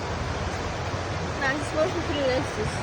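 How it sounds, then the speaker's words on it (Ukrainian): Steady, broadband rushing water of Buckingham Waterfall nearby, a constant roar with faint voices murmuring underneath. "Це водоспад."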